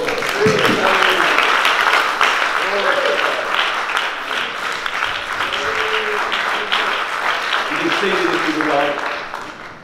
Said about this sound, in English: Would you clap your hands to the Lord?